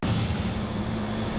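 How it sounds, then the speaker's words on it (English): A small plane takes off carrying a wing walker, its engine a loud, close, steady droning hum with a strong low tone that holds constant throughout. "then Farage is on the wing of a plane and it's taken off"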